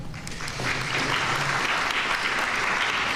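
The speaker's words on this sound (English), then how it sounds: "give yourselves a round of applause for making those things happen" Audience applause at a 2023 city budget engagement forum, a short ripple of clapping that swells within half a second into a full, sustained round from the crowd and continues steadily to the end.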